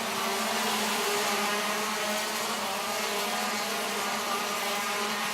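A shifter racing kart at the Rok Cup International Final runs steadily with a buzzing, high-revving engine note that holds constant throughout, moderately loud with no talk over it.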